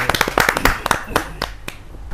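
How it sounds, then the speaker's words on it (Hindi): Sparse clapping at a Hindi humorous poetry gathering, a dozen or so sharp hand claps in uneven rhythm from a small audience, close and fairly loud, thinning out toward the end. "तो जोरदार ताली के साथ एक हास्य व्यंग्य की रचना के लिए मनोज मिश्रा कप्तान।"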